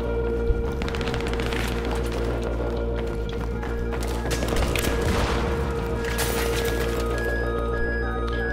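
Dense enemy gunfire from a Battlefield 3 co-op match, with rapid overlapping shots crackling through a room window, and a steady game soundscape continuing throughout.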